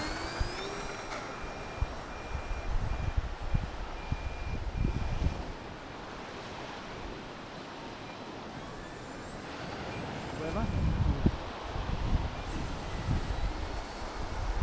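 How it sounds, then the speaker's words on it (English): Wind gusting outdoors during an E-Flite Cirrus SR-22T 1.5 m RC plane flight, a low rumbling buffet against the microphone that swells and fades in waves, with a faint high motor whine at times. "Wind is tossing it about a bit, of course."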